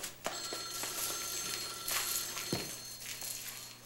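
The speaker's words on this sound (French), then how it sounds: "Le téléphone, comme si je n'avais que ça à faire." A telephone bell rings in a French cartoon, a sustained metallic ringing with a few sharp knocks and thumps around it, with no voices.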